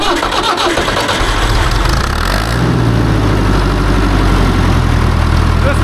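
A Massey 50 tractor engine cranks and catches after a couple of seconds, then settles into a loud, close, throbbing run as the throttle is worked, the low rumble filling the rest of the clip.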